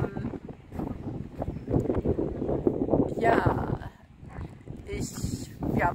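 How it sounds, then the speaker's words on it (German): Outdoors in the mountains, wind buffets a phone microphone as it picks up, making a rough, low, gusty rumble that swells and drops under a person talking. "Ja, der Wind nimmt gerade zu."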